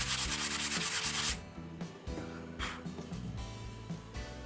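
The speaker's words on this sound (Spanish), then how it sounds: "pasamos el removedor con una lija" Sandpaper is rubbed over wood filler in a knot repair, a close, rhythmic scraping in quick strokes at first, then slower, irregular passes.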